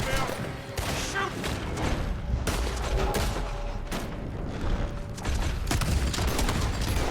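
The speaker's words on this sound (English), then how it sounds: "He's got both guns going." Dense gunfire from two guns at once in Red Dead Redemption 2, loud overlapping shots and booms rolling almost continuously, with a few short gaps between volleys.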